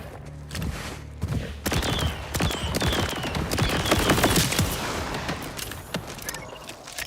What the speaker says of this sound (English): It's a nice little rifle.